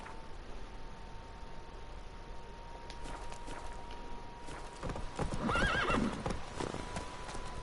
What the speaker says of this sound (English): You're a horse.